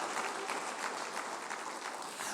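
A church congregation applauds during a sermon, producing a steady wash of many hands clapping at moderate loudness throughout.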